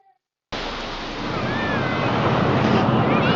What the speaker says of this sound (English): Obviously, you can see the ocean right now.